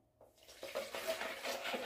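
Faint warm water, 150 millilitres, trickling and splashing into a bowl of bread dough mixture, building gradually over a couple of seconds with light clinks.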